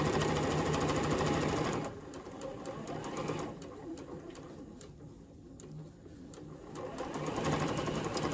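Sewing machine stitching stretchy, low thread count quilting fabric, a fast rapid clatter in bursts that slow and pause midway before speeding up again, close and clear.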